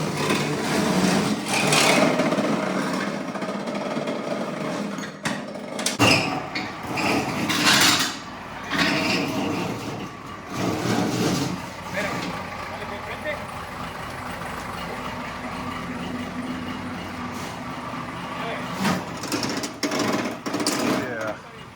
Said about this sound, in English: So we've got the tractor dragging it.